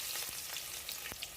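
Oil heating in a pan for chicken curry, giving a steady, close hiss of sizzling with a couple of brief knocks, no voices.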